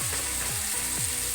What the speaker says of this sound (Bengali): আলুগুলোকে ভালো করে হাই ফ্লেমে কষিয়ে নিই